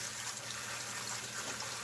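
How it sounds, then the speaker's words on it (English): Tap water running steadily while pokeweed leaves are washed, a continuous broadband hiss and splash at low level throughout, with no talking. "have the water running"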